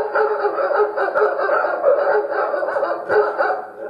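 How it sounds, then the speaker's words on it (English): A dog barks repeatedly in a steady run of sharp woofs, played as a ringtone on a Ring doorbell chime unit, close and fairly loud with no talking. "Add a little fake security with dog barking."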